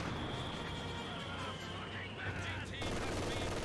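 MG42 machine gun in Company of Heroes 2 rattling in sustained bursts amid battlefield noise, with a voice talking over the gunfire.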